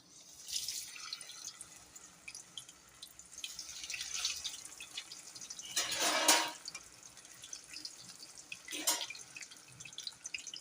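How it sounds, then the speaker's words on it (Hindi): Fish pieces fry in hot oil in a kadai (wok) for a masala fish fry. Quiet sizzling and dripping builds into two brief, louder bursts of hissing spatter, with no talk. "चलिए अब मैं मछली फ्राई करूँगी इसके अंदर"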